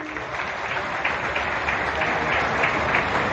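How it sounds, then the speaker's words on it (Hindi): A crowd applauds officials at a Delhi DTC bus flag-off event, the clapping steady and sustained throughout, rising slightly toward the end. "तो सभी अधिकारियों के लिए एक बार जोरदार तालियां।"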